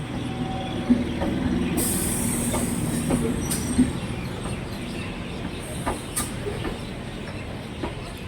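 A Sealdah–Krishnanagar passenger train stands at platform 2, its wagons rumbling steadily with wheel squeals and clanks rising over the rolling noise; no one speaks.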